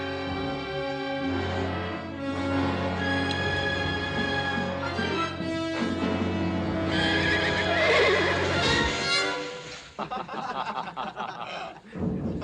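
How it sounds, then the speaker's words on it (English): A horse in a Western setting neighs repeatedly, loud shrill whinnies rising and falling close by for several seconds, followed by snorting, shuffling and hoof sounds. "That good fast horse."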